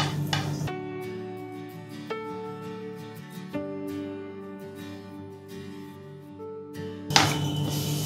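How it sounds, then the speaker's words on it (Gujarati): Rajgira and water chestnut flour are roasted in ghee in a pan over a low flame, with a spoon scraping and stirring in short bursts at the start and end, a soft background tune in between, and no talk. "રાજગરાનો અને શિંગોડાનો લોટ શેકી લઈશું."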